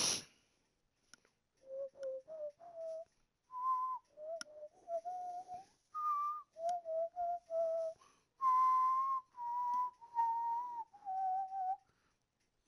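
Someone whistling a theme from the game Moonlighter, a clear solo melody of short and held notes in phrases with brief pauses, close and alone.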